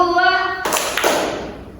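A voice calls out briefly, then a group in a counseling session clapping game strikes two sharp, loud hand claps together, spaced under half a second apart, each fading quickly.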